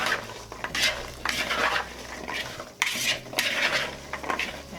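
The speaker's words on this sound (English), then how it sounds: "we're going to mix all of this together so that it's well dispersed" Utensils scrape and clink against a bowl as cranberries, other fruits and spices are stirred for cranberry sauce, with repeated bursts of mixing and knocking close up, no talking.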